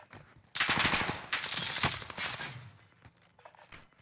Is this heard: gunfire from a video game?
yes